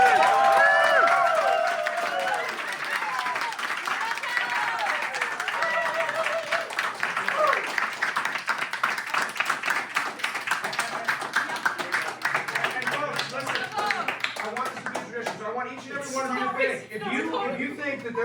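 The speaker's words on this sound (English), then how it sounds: "Let's get a round of applause." A conference audience gives a round of applause after an art history talk on Vermeer, with dense clapping fading into scattered claps while voices and some chatter rise underneath toward the end.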